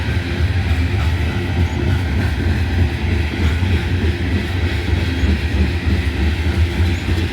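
A freight train passes loudly and close, its wheels carrying flat spots, with a continuous heavy rumble and rolling clatter of cars going by and no voices.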